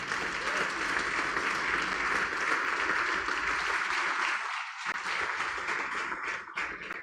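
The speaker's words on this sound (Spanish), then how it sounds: "Vamos a dar un fuerte aplauso al Señor" A church congregation bursts into loud, sustained applause, a dense, even roar of clapping that briefly dips near the end before continuing and fading.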